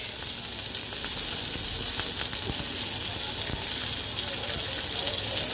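Chopped onion and green chillies lightly frying in oil in a pan while preparing pabda fish with mustard: continuous broad sizzling hiss, close and steady throughout, with faint scattered clinks and no clear talking.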